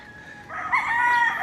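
A rooster crows loudly at a gamefowl farm, one long drawn-out call that starts half a second in and carries over a quiet outdoor background.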